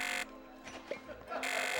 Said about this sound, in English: her jump gets replaced with an alarm clock sound.